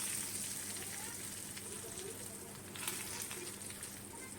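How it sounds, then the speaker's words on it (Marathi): Hot tempering poured over ground coconut chutney sizzles with a faint, steady crackle and hiss, a quiet continuous spatter running through the whole moment with no talk. "ही वाटलेली चटणी आता यावरती फोडणी टाकून घेऊयात"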